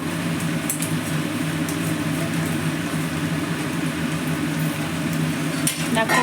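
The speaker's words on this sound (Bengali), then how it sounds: "সেটা সমেত কিন্তু পুরোটা তোমার তেলের মধ্যে দিয়ে দেওয়া হলো, সর্ষের তেলে, কারণ সর্ষের তেলটা গরম হয়ে গেছে" Kochu bata paste frying in hot mustard oil in a kadai, a steady close sizzle with a low hum beneath and a light clink of utensils near the end.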